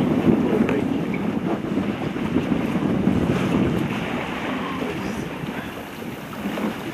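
Steady wind roaring across the microphone aboard a small sailboat sailing side onto the breeze near Finucane Island, with a constant rushing wash of water and waves, loud and continuous with no talking.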